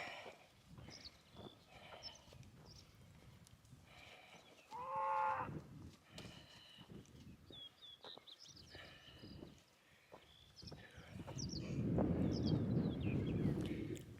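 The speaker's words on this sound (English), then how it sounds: "And there's cows mooing in the distance" Cows moo now and then in the distance, long low calls over a quiet morning outdoor scene on the Continental Divide Trail near a mesa, with birds chirping.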